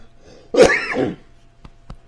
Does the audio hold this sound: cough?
yes